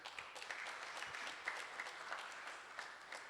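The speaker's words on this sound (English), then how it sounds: "huge round of applause to all the sponsors." Audience applause for the sponsors at a cricket league event, a soft continuous patter of many hands clapping from a distance, with no talking over it.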